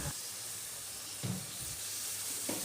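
Masala frying in hot oil for Tamil vada curry as coconut milk is poured in and stirred, a steady close sizzle and hiss with brief stirring bumps.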